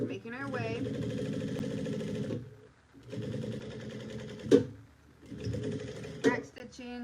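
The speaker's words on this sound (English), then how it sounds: "Back stitching." Sewing machine back stitching on a bucket bag with a drawstring, running in three sustained bursts of dense mechanical chatter separated by brief pauses, with a few sharp clicks and a person talking intermittently.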